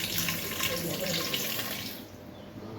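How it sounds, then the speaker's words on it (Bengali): Water pours steadily onto potatoes sitting in a pressure cooker, a continuous splashing rush that stops about two-thirds of the way through, leaving a quieter tail. "এবার আলুটাকে কুকারের মধ্যে দিয়ে দিচ্ছি, আর আলুটার মধ্যে দেব একটু জল"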